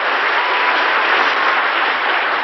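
Steady, dense applause from a pageant audience cheering a contestant at a 1989 Fitness America Pageant, loud and continuous with no break, no voices standing out above the clapping.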